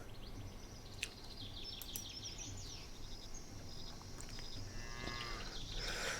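Cattle in the Viking-era settlement game Land of the Vikings give faint, low moos under a steady outdoor ambience. Sporadic bird-like chirps and insect buzzing are also in the background.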